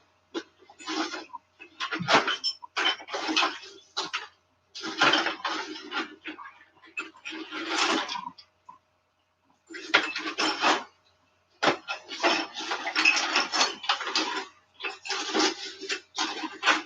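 Metal bolts clatter and jingle in a bucket during Jeep maintenance, with repeated bursts of rummaging separated by short pauses.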